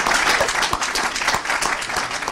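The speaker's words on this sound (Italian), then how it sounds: "Fate un applauso" An audience at an Italian book presentation applauds, a full, sustained wash of clapping with a few sharper individual claps standing out, close and even throughout.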